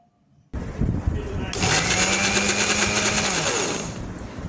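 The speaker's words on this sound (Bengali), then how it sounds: "এবার আমি এটাকে ব্লেন্ড করে নিব" A kitchen blender whirs through a cup of sugar, starting abruptly and quickly rising to a loud, steady high-pitched whine that holds for several seconds before easing slightly at the end.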